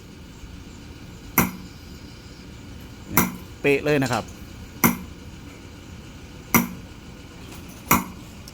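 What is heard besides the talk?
hammering a stamp to punch a pattern into a bracelet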